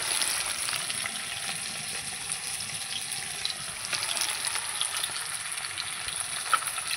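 Food fries in a pan seasoned with salt and turmeric while being stirred, a steady close hiss of sizzling with faint scraping and bubbling, no talk.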